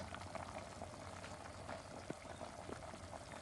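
A pot of Thai mahung curry with pork bubbles and simmers quietly and steadily, with a few soft pops standing out over the low, continuous boiling.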